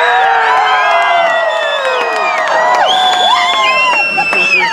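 A crowd cheers, whoops and shouts at a live hillbilly music show at Knott's, a loud, dense burst of excited voices with high yells and whistles rising over the noise.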